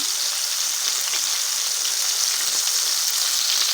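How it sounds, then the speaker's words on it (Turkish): Köfte meatballs fry in plenty of hot oil in a pan, giving a loud, constant bright sizzle with crackling bubbles and no voices. "Bol yağda kızartıyorum arkadaşlar."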